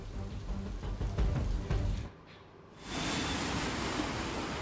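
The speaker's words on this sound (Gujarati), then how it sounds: "શહેરના અનેક વિસ્તારમાં ધીમી ધારે વરસાદ હજુ પણ યથાવત છે" Steady light rain hisses throughout over Mehsana, Gujarat during the monsoon, dipping briefly in the middle before resuming as a constant, even patter with no voices.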